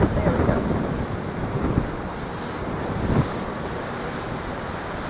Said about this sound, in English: It's a windy day in Holland.